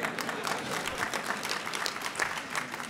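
Scattered audience clapping at a scholarship jazz brunch, a fairly faint patter of hands continuing steadily for a few seconds.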